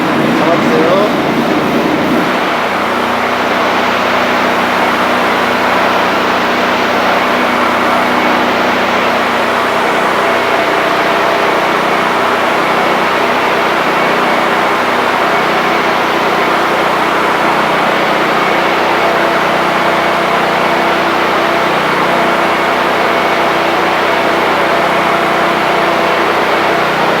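A generator runs during a planned power switchover at an electrical substation, a loud steady engine drone and hum that settles after a brief change at the start, with voices talking over it.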